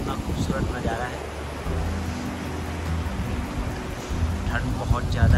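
Cold wind gusts roar steadily at Sonamarg in Kashmir, a continuous rushing buffet across the microphone with voices talking over it.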